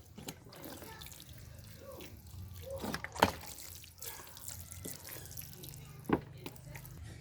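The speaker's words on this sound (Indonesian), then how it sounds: "siram bagian media tanamnya supaya lembab ya" Water poured onto the planting medium in a polybag of red ginger seedlings, a soft irregular splashing and trickling with a few sharper drips, close and quiet.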